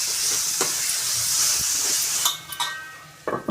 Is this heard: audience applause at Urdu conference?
no